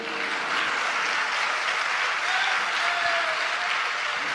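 An audience at a Hindi religious discourse claps together in a dense, even burst of applause lasting a few seconds at steady loudness.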